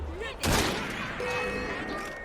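A single sharp gunshot rings out in Assassin's Creed Syndicate, set on Victorian London streets, loud and near, with a short echoing tail over ambient game sound and faint voices.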